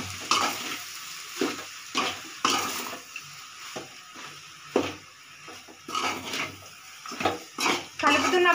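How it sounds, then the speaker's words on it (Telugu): Rice is stirred into a sizzling coriander masala with turmeric in a pan, giving uneven scraping strokes and bursts of frying up close, with a voice speaking between them. "రైస్ని బాగా మిక్స్ చేసుకుందామండి"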